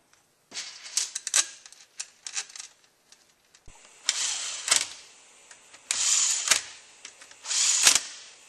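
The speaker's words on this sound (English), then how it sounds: "we're just going to put these bolts back in." A power tool runs bolts into a transmission valve body for a 722.6 NAG1 automatic, several short whirring bursts with pauses between, close and fairly loud with light clicks of parts.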